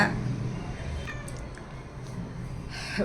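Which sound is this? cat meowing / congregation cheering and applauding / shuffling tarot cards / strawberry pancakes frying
cat meowing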